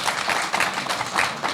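An audience claps at a theatre event, a steady wash of many hands applauding together at moderate loudness.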